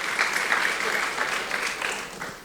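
Brief clapping from a congregation at a Pentecostal Sunday worship service in Gorontalo, moderately loud with a slightly uneven rhythm, running steadily throughout.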